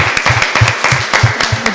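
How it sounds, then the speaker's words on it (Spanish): An audience claps loudly and up close after an interview, with many hands beating in a quick, fairly regular rhythm throughout. "vosotros os merecéis un aplauso pero gigante"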